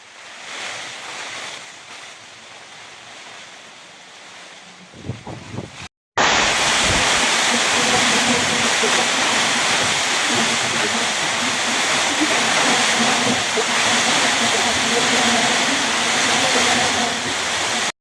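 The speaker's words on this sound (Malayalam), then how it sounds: "ഇത്തവണത്തെ മഴയുടെ പ്രത്യേകത എന്ന് വെച്ച് കഴിഞ്ഞാൽ ശക്തമായിട്ട് കൂടെ തന്നെ കാറ്റ് മടിക്കുന്നു" Loud, steady roar of heavy monsoon rain driven by strong wind at Kanambuzha walkway near Kannur, Kerala, a dense wash of noise that starts abruptly after a brief quieter stretch.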